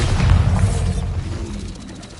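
A Bombarda spell detonating in Hogwarts Legacy, one loud low boom that rumbles and fades over about two seconds.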